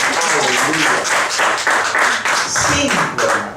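Congregation at Iglesia Bethel church service in Lima, Peru clapping in praise, loud and continuous hand claps blended with voices and a shouting or cheering crowd throughout.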